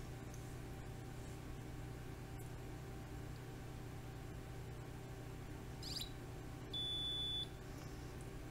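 Against a constant low electronic hum, an Adafruit RP2040 USB Host board's startup beep sounds near the end, a short bright tone, brief and moderately loud, preceded by a faint chirp.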